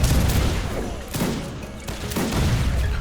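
Gunfire and a grenade throw in the strategy game Age of Empires 3 (Wars of Liberty), heard as dense volleys of musket shots with a few heavier booms, loud and continuous through a busy battle.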